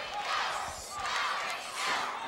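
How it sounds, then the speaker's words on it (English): A large wrestling arena crowd chanting in a steady rhythmic roar, swelling and falling in repeated waves without any commentary over it. "As you hear the crowd chanting, go, go, go."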